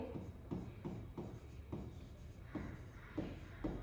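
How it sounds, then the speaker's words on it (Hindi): Marker or chalk strokes on a board while working through a Year 7 maths proportion problem, coming in short scratchy bursts at a steady rhythm, close and fairly quiet. "तो यहाँ मैं लिखती हूं"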